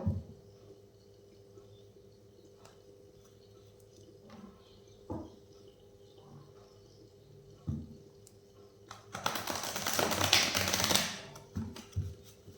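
Tarot cards are shuffled in a brief, close, papery riffle lasting about two seconds. Before it there are scattered soft taps and clicks, and a quiet room.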